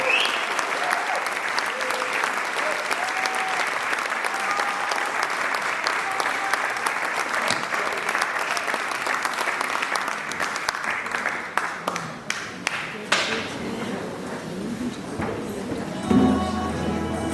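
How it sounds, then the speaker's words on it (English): Audience applause and cheering for a folk band at the 2024 MOK Fest Dalriada Connections Concert, a dense sustained ovation that thins out near the end into scattered claps. "Give them another big round of applause."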